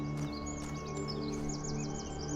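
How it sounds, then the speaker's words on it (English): Birds chirp in an outdoor area of the video game The Talos Principle 2, with repeated bright tweets layered over a steady ambient game drone and low hum. "Oh, listen to the birds!"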